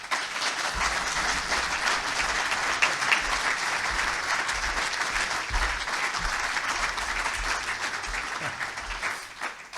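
Audience at the 102nd SPA Conference applauding to welcome speaker Richard, a dense steady clapping from a large crowd that continues unbroken for about ten seconds.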